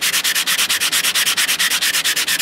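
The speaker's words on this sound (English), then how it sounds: "you just put your ring down and you just sand that" Sandpaper rubs rhythmically against the inside of a metal ring made from a coin, a loud, close scratchy swish repeating in quick, even strokes without any talk.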